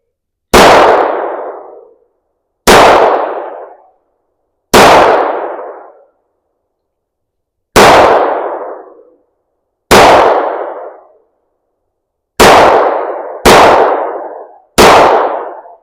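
A CZ 83 Makarov pistol fires 82-grain target rounds at a steel target: eight loud, sharp shots spaced a second or two apart, each ringing into a decaying clang, close and with no talk.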